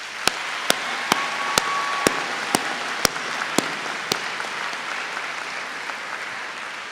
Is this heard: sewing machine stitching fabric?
no